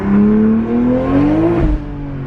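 A 2020 Toyota Supra fitted with a bigger turbo pulls hard on a street test drive, its engine note climbing steadily and loudly from inside the car before the throttle lifts and the sound drops away.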